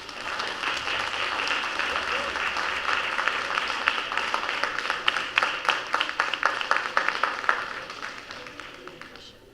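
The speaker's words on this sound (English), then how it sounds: "Let's give them a big round of applause." An audience at a school board business meeting gives a round of applause, steady moderate clapping building slightly and then thinning into scattered individual claps toward the end, heard at some distance in the room.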